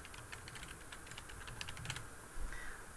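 Typing a search term on a computer keyboard, a quick run of soft, close key clicks over a faint steady room hum, with a slightly louder tap near the end.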